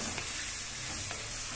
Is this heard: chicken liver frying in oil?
yes